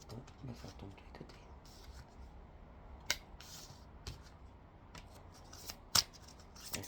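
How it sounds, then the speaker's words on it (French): Tarot cards drawn from a deck and laid out on a table, giving soft shuffling and sliding rustles with a few sharp snaps and taps, close and quiet, with faint speech. "Je vais tirer d'abord les cartes."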